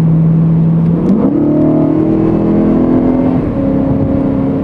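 A 2011 BMW M3 engine in M mode accelerating hard, its steady loud drone stepping up in pitch as it revs and shifts through gears, heard close and alone.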